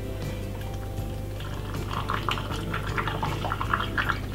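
Milk pouring into a Ninja blender jar for a smoothie, a soft, steady trickling and splashing over a constant low hum, close and moderately quiet.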